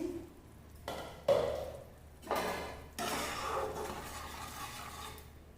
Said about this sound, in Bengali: আমি কড়াইয়ের ঢাকাটা খুলছি।